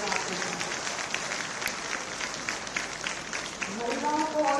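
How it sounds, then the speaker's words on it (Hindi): A rally crowd in Jaipur claps in a steady, dense wash that rises slightly near the end, with a loud speaker's voice booming over it. "तो जोर से ताली बजाओ"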